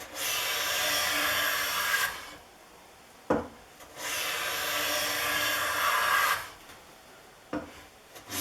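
An old Bedrock 604 hand plane shaving a 1 5/8 inch piece of poplar, two long rasping strokes of about two seconds each, close and clear, with a sharp knock as the plane is reset between them.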